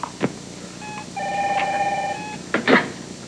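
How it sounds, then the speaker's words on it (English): A telephone rings with a steady electronic tone lasting under two seconds, set between brief knocks and thumps in a quiet room, with no talking. "Phone rang. I answered it."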